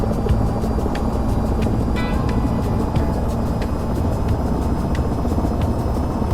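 A VTOL aircraft's engine and rotor spool up in a VR flight game, a loud steady broadband roar with faint periodic rotor ticks and a high whine, with no one talking.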